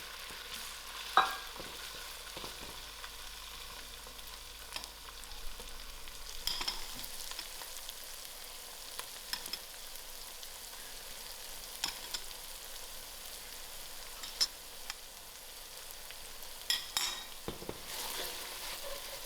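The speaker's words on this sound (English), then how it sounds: "I'll allow this to fry for a few seconds." Spices, ginger and garlic fry in a pan with a soft, steady sizzle and occasional stirring scrapes and clicks, faint and continuous throughout with no talking.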